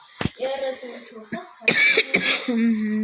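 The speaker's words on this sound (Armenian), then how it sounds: "Ժողովուրդ կներեք այս հազից համար" Several sharp coughs and throat-clearing bursts from a person, close and loud, some clustered together, with voiced sounds in between.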